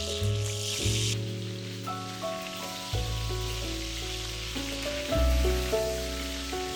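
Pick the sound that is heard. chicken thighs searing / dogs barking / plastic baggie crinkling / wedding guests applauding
chicken thighs searing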